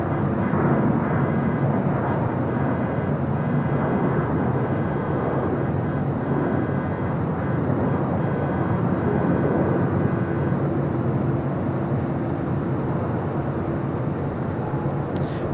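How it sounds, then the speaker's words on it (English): United Boeing 787-9 Dreamliner airliner at LAX, a loud continuous jet engine roar with broad rumbling noise sustained for the whole stretch, steady and fairly close, no talking over it. "United Dreamliner heading on over to 25 right."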